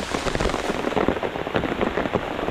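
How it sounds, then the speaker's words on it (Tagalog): Heavy rain pouring down hard and close, a dense continuous patter of drops striking surfaces with no voices. "Ang nangyari sa lakas po ng ulan."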